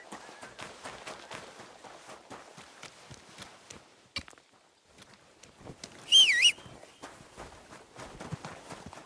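Horse hooves clip-clop on the ground in Kingdom Come: Deliverance II, a steady series of soft, close thuds with a brief pause midway, joined by faint birdsong and a short high bird call.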